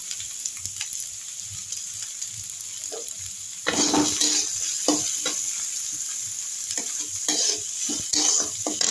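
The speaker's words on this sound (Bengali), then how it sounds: "দেখুন তেল গরম হয়ে গেছে, তেলের মধ্যে আমি পেঁয়াজগুলো দিয়ে দিলাম।" Onions tossed into hot oil sizzle loudly and are stirred, with a quieter hiss at first, then a sudden rise in crackling and repeated scraping and clinking of a spatula against the pan, close up and without talk.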